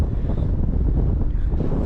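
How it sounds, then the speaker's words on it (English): Strong gusts of wind on a rocky Welsh mountainside buffet the microphone in a continuous low roar, loud and close, with no voices. "Weather's gone a bit windy, it's a bit cold now"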